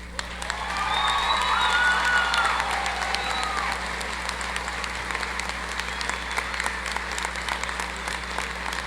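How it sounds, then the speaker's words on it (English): A large commencement audience at Roane State applauds to thank faculty, a broad, steady roar of clapping with some cheers and whistles that swells early and then continues a little softer. "join me in a round of applause to thank them"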